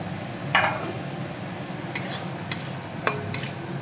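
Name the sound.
spices being sautéed and stirred for hilsa fish curry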